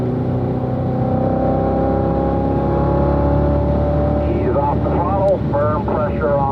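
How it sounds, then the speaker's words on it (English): A car engine pulls hard at full throttle down the straight of the Spring Mountain racetrack, a steady loud drone that holds throughout while a voice talks over the end. "Roll into that throttle. Full throttle down the straight"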